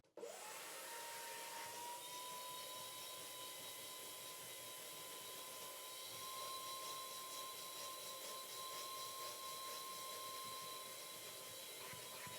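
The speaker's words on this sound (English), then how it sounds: "which I'm now going to extract with my vacuum" A vacuum extracts cleaning fluid from a carpet during pet urine stain removal, a steady loud whine with a sustained tone and broadband hiss running continuously from start to finish with no talk.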